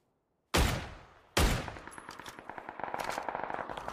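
Gunfire in the video game PUBG: two sharp, loud shots are followed by a rapid burst of automatic fire that continues to the end, close and dominant, with no voices.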